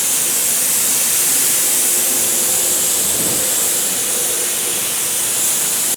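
A steady, continuous aerosol spray hiss of primer being sprayed on a 1970 AMC Javelin/AMX Ram Air hood outdoors in cold, windy conditions, loud and close, running unbroken from start to finish.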